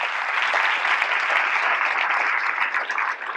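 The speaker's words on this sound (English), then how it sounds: "Please give them a round of applause." Audience applause for camp instructors and leaders at a youth camp closing ceremony, a steady dense clapping that fills the clip and fades slightly at the end.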